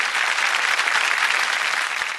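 Studio audience applauding on a Bhojpuri TV show, dense sustained clapping from a crowd, loud and even for the whole stretch before tapering slightly at the end.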